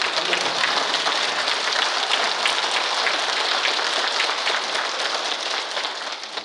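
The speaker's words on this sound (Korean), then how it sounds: "박수" A congregation applauding at the close of an Advent lecture on liturgy and spirituality in a Catholic setting, a steady, even wash of many hands clapping that holds for several seconds and thins slightly at the end.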